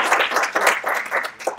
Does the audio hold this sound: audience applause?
yes